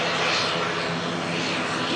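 Logan Air ATR turboprop airliner taxiing at an airport, a loud continuous engine roar and broad rushing drone with no breaks, heard close by.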